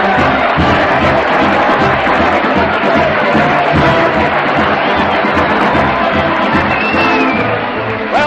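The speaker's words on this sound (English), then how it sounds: "the crowd's cheering" A large studio audience cheers and applauds at the opening of a 1935 NBC radio variety show, a steady loud roar of clapping and voices with a band faintly underneath.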